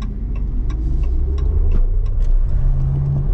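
Maserati GranCabrio Folgore, an 818 hp electric convertible, pulling away under acceleration with a steady low drive hum and road rumble, a rising whine and faint ticking clicks in the cabin, no voices.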